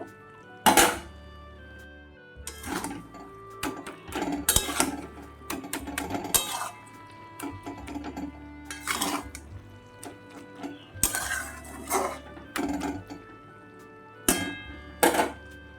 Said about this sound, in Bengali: তো এইভাবে 2 মিনিট মতো আমি নাড়িয়ে চাড়িয়ে নিব।